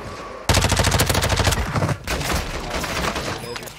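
Gunfire in Call of Duty MW2 Warzone at Vondel Park: a sudden loud burst of rapid automatic fire, a brief pause, then more sustained shooting close by.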